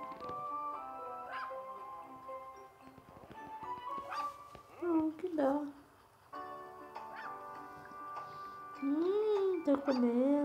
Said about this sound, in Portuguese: Pare de latir, cachorro.